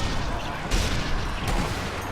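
Gunfire in the zombie shooter Sniper Elite Nazi Zombie Army 2, a dense, muffled rumble of shots with two louder bursts, continuous and heavy throughout with no clear gaps.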